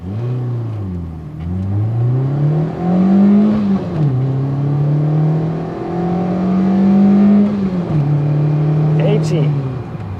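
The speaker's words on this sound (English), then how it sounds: "But let's try to take it to 80." Inside a Peugeot 106 Rallye, the engine revs up through several gears, each climb in pitch dropping at a shift before rising again, loud and close.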